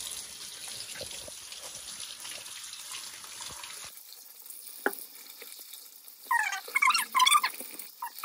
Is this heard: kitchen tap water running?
yes